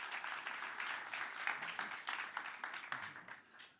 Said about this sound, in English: So please give me a big warm round of applause.